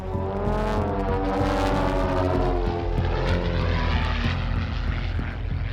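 A light propeller aeroplane drones loudly and steadily in flight, its engine hum and propeller buzz sustained and close throughout, with no voices.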